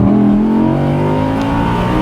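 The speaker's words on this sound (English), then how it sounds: "I'm just gonna tap the gas right here so you can hear this real quick" An Audi R8 Spyder engine revs hard as the throttle is blipped, a loud, close, sustained roar with steady harmonic tones throughout.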